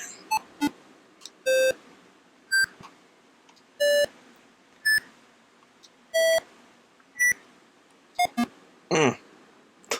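Electronic beeps from a retro paddle video game with difficulty switches, sounding as a string of short, bright tonal blips at irregular intervals, some in quick pairs, near and clear with no talking.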